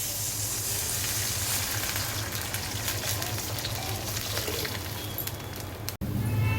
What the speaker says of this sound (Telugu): ఉల్లిపాయ ముక్కలు బాగా మగ్గిన తర్వాత ఇందులో వాటర్ వేసుకోవాలి.